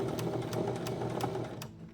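A sewing machine stitches sweatshirt fabric in a steady, close mechanical whir with rhythmic needle clicks, slowing and trailing off at the end.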